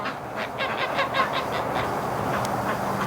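Wintering ducks honk and quack in a repeated run of short calls close by, over a steady outdoor background noise on a freezing winter evening.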